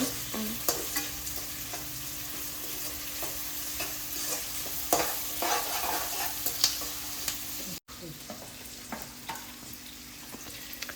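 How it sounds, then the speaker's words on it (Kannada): Onions frying in a pan for veg fried rice, a steady sizzle punctuated by repeated sharp scrapes and clinks of stirring, with a brief dropout near the end. "ಇವಾಗ ಈರುಳ್ಳಿ ಎಲ್ಲ ಕೆಂಪಕ್ಕಾಗೋವರೆಗೂ ಫ್ರೈ ಮಾಡಿಕೊಡೋಣ"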